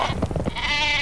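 A sheep bleats in the Worms Reloaded video game. One nasal, wavering bleat is heard up close for about a second, with no one talking over it.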